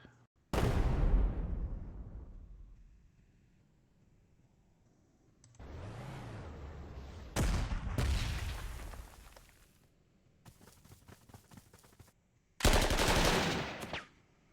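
Artillery and machine-gun fire from the WWII strategy game Panzer Corps 2, in bursts: a loud blast that rolls off, a rising whooshing shell, sharp rattling volleys, then another heavy loud blast, with quiet gaps between.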